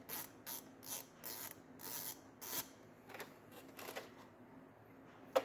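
Ratchet clicking as 11mm bolts are backed out of the intake manifold on a BMW E65 750i with the N62B48 V8, heard as short bursts of quick ratcheting with brief pauses, close and fairly quiet, no talking.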